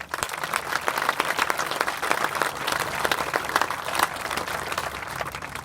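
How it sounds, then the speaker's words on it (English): An outdoor audience at a veterans park dedication applauding, with dense, steady clapping from a sizeable crowd that builds quickly and holds throughout. "So please give them a round of applause."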